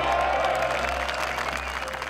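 A large outdoor crowd of more than ten thousand at a right-wing populist rally, applauding and cheering in a dense, continuous roar that stays steady and fairly loud throughout.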